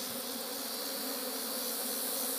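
Thousands of honeybees swarm over wet wax cappings outdoors, their dense, continuous buzzing filling the air close by and loud.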